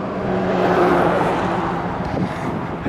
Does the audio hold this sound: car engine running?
yes